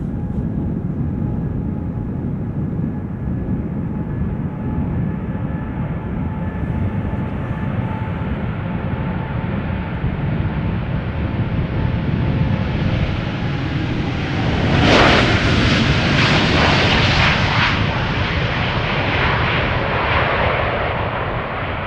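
KLM Boeing 787 Dreamliner departing Schiphol: a broad, sustained jet engine roar that holds steady and swells toward a louder rumbling peak around the middle before easing slightly, heard from a distance with no talk.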